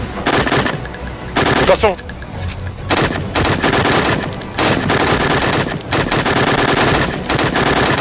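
Rapid automatic gunfire rattles in bursts during a session of the video game DayZ, loud and near, with short gaps between volleys and players talking over it.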